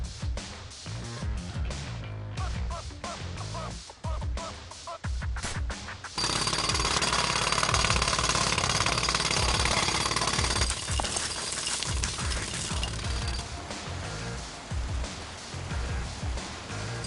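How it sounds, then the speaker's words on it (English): Loud, continuous jackhammer drilling breaks into the floor beneath a treatment facility reservoir in a Teenage Mutant Ninja Turtles video game. Scattered impacts come first, then a steady, harsh pounding roar for the last ten seconds. "I need more time to finish hammering the hole!"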